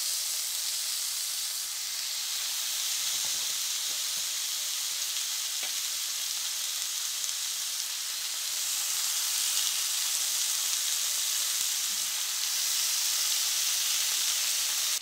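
Bacon fries in a pan on a stove with a continuous bright, hissing sizzle. Faint pops and crackles run under it at a steady, fairly close level, with no talking.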